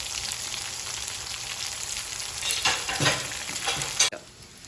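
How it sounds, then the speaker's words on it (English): Tofu pieces frying in oil in a pot, a steady close hiss of sizzling with a few clattering stirs and scrapes near the end before the sizzle drops to a softer bubbling. "We're gonna let that fry up a little bit."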